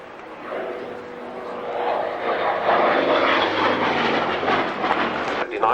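A piston-engine fighter aircraft at the Yeovil airshow roars past, its engine drone swelling from moderate to loud and holding steady for several seconds, with a broad rushing noise and faint voices beneath.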